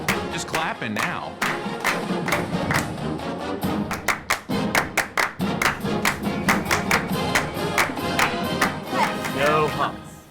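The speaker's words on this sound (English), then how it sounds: "Just clapping now." Rhythmic group clapping at a sports gathering, a series of distinct claps in steady time, some louder thumps among them, with crowd voices and talk running beneath.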